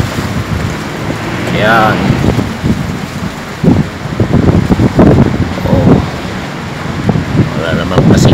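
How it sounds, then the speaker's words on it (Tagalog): Strong typhoon wind buffeting the microphone outdoors near an elementary school, gusting and rumbling with rain-like noise, while someone talks briefly over it. "Lakas pa rin ang hangin."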